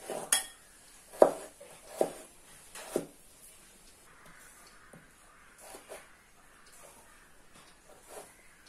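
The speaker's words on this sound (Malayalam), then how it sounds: "ക്യാരറ്റ് അരിയാം." Carrots sliced with a knife for an Indian vegetable salad, giving a few sharp, close knocks of the blade on the board, then softer scattered taps and clinks in a quiet kitchen.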